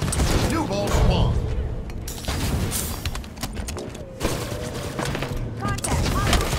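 Gunfire in an online multiplayer shooter match against a full enemy team, a dense clatter of shots and mechanical action sounds rolling on throughout, loud and busy with game effects.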